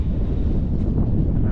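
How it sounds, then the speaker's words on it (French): Wind gusts across a lagoon campsite with orange sand, a steady low rumble of buffeting against the microphone, heard alone for a brief moment. "il y a un petit peu de vent"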